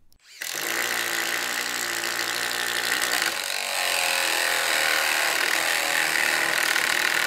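A Bosch 1¼-inch self-feeding nail strike paddle bit bores into wood with a loud, steady grinding whir. It runs continuously after a brief start, and its texture shifts slightly partway through as the bit cuts deeper.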